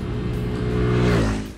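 Keeway Sixties 300i scooter engine revving hard as it accelerates, a steady rising drone that swells in pitch and loudness toward the end, close and alone without talk.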